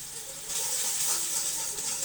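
Spice masala of chili powder and turmeric frying in oil for a hilsa fish curry, a soft steady sizzling hiss that swells slightly after the first half-second, close and fairly quiet.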